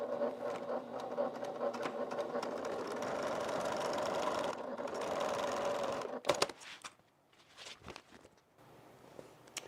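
A sewing machine runs steadily while stitching a faux leather bag seam, a close continuous whir that stops after about six seconds, followed by a few handling clicks and rustles.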